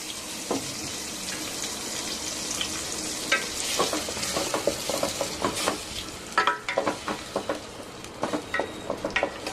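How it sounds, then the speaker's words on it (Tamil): Tomato and garlic paste sizzles steadily in a pan for mutton rasam, with irregular scraping clicks as it is stirred and a soft background hiss, and no one speaking. "தக்காளியும் பூண்டும் கொஞ்ச நேரம் வதங்கட்டும்,"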